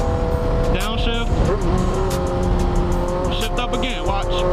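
Motorcycle engine dropping through a downshift, its pitch sliding and stepping over several seconds with brief bursts of revving, sounding close and steady throughout.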